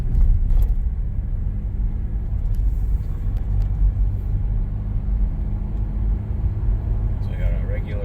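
A car drives along a road at night with quad high-beam headlights fitted, a steady low engine and road rumble heard from inside the cabin throughout, with faint clicks near the end.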